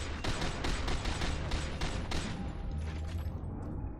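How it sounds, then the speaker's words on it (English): Rapid gunfire in the shooter game FEAR 2: Project Origin, a dense run of overlapping shots for about two seconds that thins into a scattered, fading firefight with a steady low rumble underneath. "Wait, who's shooting at me?"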